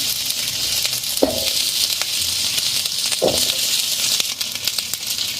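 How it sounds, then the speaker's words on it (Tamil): Ten small onions, curry leaves and flowers sautéing in oil for a fish curry, with a steady broadband sizzle, occasional stirring scrapes and a couple of brief clanks from a spoon against the pan, and no talking. "கொஞ்சம் எண்ணெய் ஊற்றி நல்லா வதக்க வேண்டும்"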